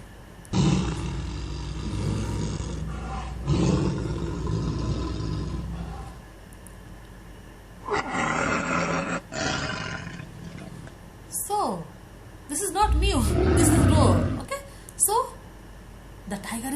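Several loud, deep tiger roars come in bursts with pauses between, harsh and rumbling, mixed with some background noise.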